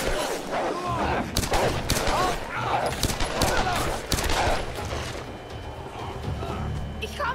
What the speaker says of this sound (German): Ich höre Schüsse.